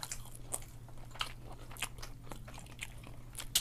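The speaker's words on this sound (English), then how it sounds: "I gotta chew my food." Chewing and biting into a Subway Philly steak sandwich up close, with moist crunchy bites and mouth sounds repeating irregularly over a steady low hum, no talking.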